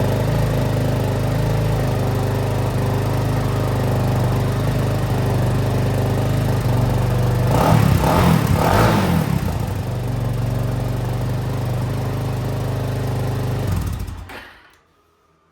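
A Kawasaki KFX400 ATV engine idles loudly and evenly, with a brief rougher burst partway through, then cuts off abruptly near the end.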